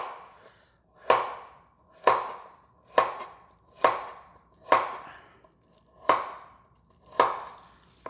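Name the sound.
knife slicing carrots on a cutting board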